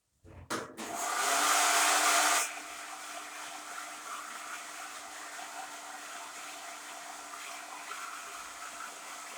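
Hair dryer blowing on a child's painting, switched on with a click and running loud for a couple of seconds, then continuing as a steadier, softer whoosh throughout.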